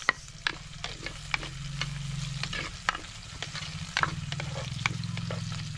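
Ginger and onion sautéing in a hot pan for chicken feet adobo, a steady sizzle broken by frequent scraping and clanking strokes of a spatula, close and fairly loud with no talking.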